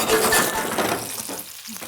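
Leftover Chinese food frying in a hot nonstick coated pan, a loud close sizzle with stirring scrapes and a clink, fading toward the end, with no voices.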